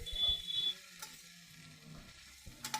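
Deep-fried okra goes into a pan with onion and chili powder and is stirred, giving soft scraping stir sounds and a faint sizzle up close, with a brief clatter near the end.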